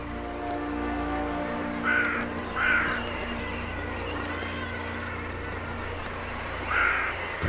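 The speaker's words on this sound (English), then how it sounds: "The hooded crow conducts a foray." A hooded crow gives three loud harsh caws over a steady low hum at a Baltic Sea seabird cliff.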